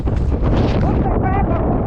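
Strong storm wind buffets the microphone on an open-water fishing trip, a loud continuous roar with gusting rumble throughout; a voice talks over it briefly.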